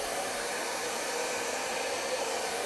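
A hair dryer blows steadily to dry fresh white paint, a loud, continuous broadband whoosh running unbroken from start to finish with no voices.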